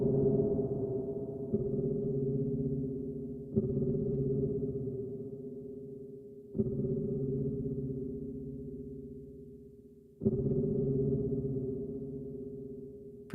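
A looped beat sample with an LFO modulating its volume, giving a faint flutter over steady tonal layers; the pattern restarts with soft attacks roughly every three seconds, played alone without talk.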